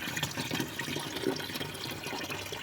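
Water pours into a home hydroponic vegetable-growing setup, a soft, continuous splashing trickle at close range, fairly quiet and steady for a few seconds with no voices.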